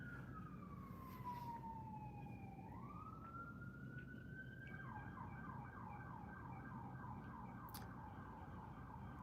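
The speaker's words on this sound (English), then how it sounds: "that's why you hear sirens out there all the fucking time, right around now." Distant wailing siren sweeping down and up, then a faster warbling siren pattern, heard faintly over a steady low city hum.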